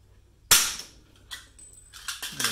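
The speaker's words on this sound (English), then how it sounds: "And then we'll just grab our rivet gun here." A rivet gun sets a rivet through a backing washer while installing an Everett removable snow flap kit V2, giving one sharp, loud snap close by, followed by fainter clicks and handling noise.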